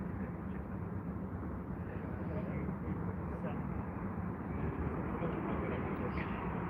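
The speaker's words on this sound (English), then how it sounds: "In the Dreamliner, Air India, here we go." An Air India Boeing 787 Dreamliner airliner rolls by at Heathrow Airport, its jet engines making a steady, fairly faint broadband roar that holds without pause throughout.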